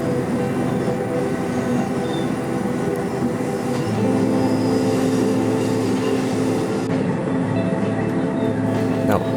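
Watarase Keikoku Railway train travelling slowly along a curving gorge line, a loud, steady onboard rumble of wheels and carriage with faint squeals and a low voice in the background.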